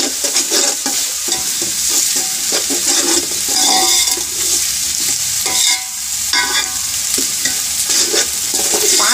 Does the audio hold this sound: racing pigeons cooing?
no